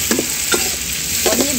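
Onions added to hot masala in a pan sizzle steadily while a spoon stirs them in a few quick scraping strokes, close up with no voices.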